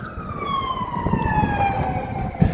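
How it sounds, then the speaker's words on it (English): A siren wails with a slowly descending tone over low traffic rumble, steady and moderately distant. "is the siren you hear"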